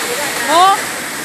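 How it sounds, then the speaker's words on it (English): Several waterfalls spill into a river alongside a hotel boat ride, a steady broadband rush of falling water close by, with a brief swell in the middle and faint voices mixed in. "You'll feel a cool, misty breeze as we go through our waterfall section. There are 3 of them flowing into the river."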